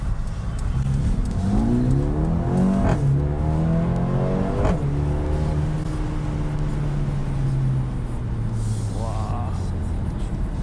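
A Mercedes-AMG CLA with a small engine accelerates: loud engine note climbing through rising pitch sweeps, with short gaps between gears, then a long steady pull that eases off near the end.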